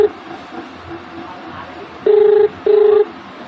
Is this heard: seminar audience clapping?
no